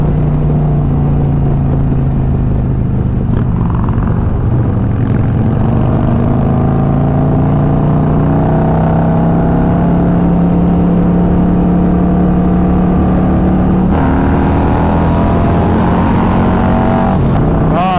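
A Harley-Davidson Road Glide's exhaust revs loud and close, a deep continuous rumble with rising and falling pitch sweeps as the throttle is worked.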